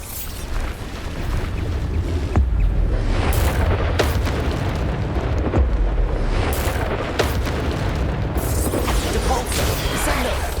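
Bombarda blasting spells cast in the Hogwarts Legacy video game during combat, sounding as continuous loud booming explosions and crashes layered over one another with several sharp hits.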